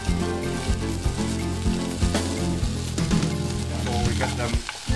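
A few cloves, three or four, fry in a pan over lowered heat, giving a steady close sizzle throughout under a layer of tonal background sound, with no talking.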